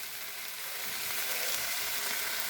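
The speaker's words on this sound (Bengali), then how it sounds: "পুঁই শাকগুলো দিয়ে দিচ্ছি, বড়ি দিয়ে পুঁই শাকের কারি" Malabar spinach leaves dropped into a hot pan for a Bengali curry with lentil dumplings, giving a loud, steady, close sizzle that hisses without pause and with no voices.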